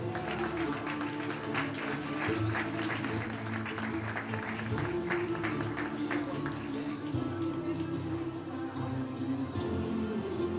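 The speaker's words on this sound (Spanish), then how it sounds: "Fuerte aplauso para Santi Matoso Sacaluga" A crowd applauds race finishers at an outdoor award ceremony for a trail race, sustained clapping with a loudspeaker voice talking over it throughout.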